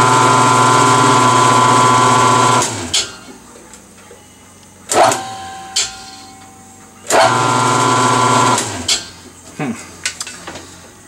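Power tapping machine spinning at 120 RPM, cutting threads in a gummed-up 13-inch brake part: a loud steady mechanical hum that stops, followed by metallic clunks and clatter, then the motor restarts and runs again briefly.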